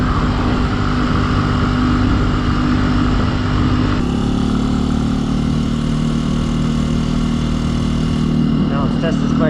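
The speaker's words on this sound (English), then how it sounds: "Now let's test this bike's agility with a little some small corners." Steady mid-pitched engine drone from a 2021 Benelli TNT135 motorcycle being ridden, loud and continuous with wind rush and a slight shift in tone partway through.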